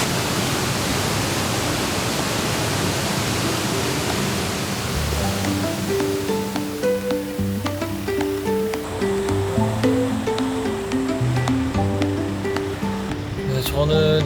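Sambuyeon waterfall rushes in a steady, loud roar of falling water, while a plucked melody rises over it partway through.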